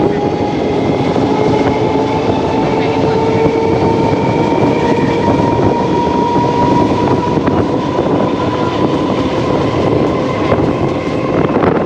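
A passenger train running toward Sealdah on the Krishnanagar–Murshidabad route, with steady loud rumble and wheel-on-rail roar from inside the carriage, faint tonal squeals riding over it, and continuous wind buffeting throughout.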